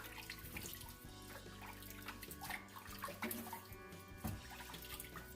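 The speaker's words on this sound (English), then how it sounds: "We're gonna wet the face." Water splashing and dripping from a sink tap as the face is wetted before a wet shave, irregular close splashes and trickles over a steady running flow, fairly quiet and with no talk.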